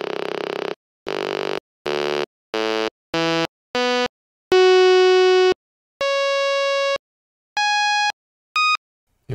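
A Buzzy Bee synth reamped through a Hornet guitar effect plays a series of separate buzzy, distorted tones, each held briefly and broken by silences, shifting in pitch from low rasp to higher piercing notes.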